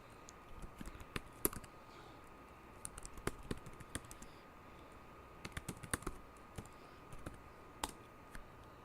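Rapid, uneven keyboard typing on a computer keyboard, with sharp clicks and short bursts of keystrokes over a faint steady background hum, close and fairly quiet throughout.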